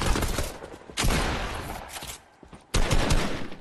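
A grenade launcher fires in a shooting video game, with two heavy, booming blasts about two seconds apart, each trailing off into a rumbling decay, the second followed by a further burst of noise.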